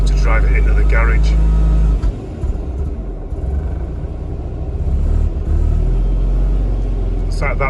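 Mazda RX-7 FC rotary engine running rough and struggling while smoking, a loud, steady low rumble with uneven surges, and brief voices near the start and end.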